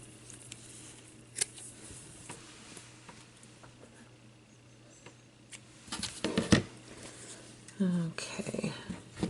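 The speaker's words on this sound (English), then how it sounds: "take a pair of some nice sharp scissors that will cut the felt without struggling" Quiet scissor snips cut through felt in a few short bursts, growing louder toward the end, with soft rustling between.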